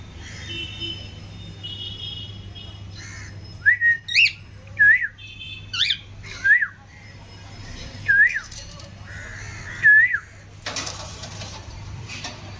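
Lutino cockatiels give a series of clear, rising whistled chirps in short bursts, fairly close and loud over a faint steady hum, with no talk.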